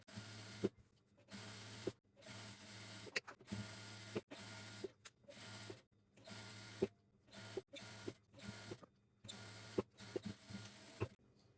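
A sewing machine stitches the seam of a bootcut pant in a string of short, quick runs separated by brief pauses, heard up close over a steady low motor hum, with no talking.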